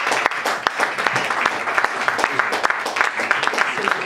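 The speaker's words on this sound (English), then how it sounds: "We got a round of applause, ladies and gentlemen." An audience applauds steadily, a dense patter of many hands clapping continuously at moderate loudness.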